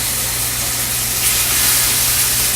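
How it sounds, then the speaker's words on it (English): Pork chops searing in a hot pan with a little olive oil, a loud, steady sizzling hiss that runs unbroken and close throughout. "we're transferring the pork into a hot pan that has a little bit of olive oil on it"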